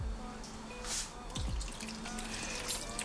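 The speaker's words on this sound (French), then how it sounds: "À cela je vais ajouter mon bouillon de crevettes de tout à l'heure." Shrimp broth poured into a salad bowl makes a soft, faint trickle and splash with a few drips, quiet and close.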